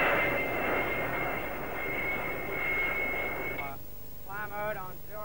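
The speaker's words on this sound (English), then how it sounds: "The aircraft on the USS Forrestal being F-4Bs of Fighter Squadron 74" F-4B Phantom jets of Fighter Squadron 74 on the deck of the carrier USS Forrestal give a loud, steady roar with a high whine for about four seconds. The roar then drops away, leaving quieter warbling, radio-like chirps.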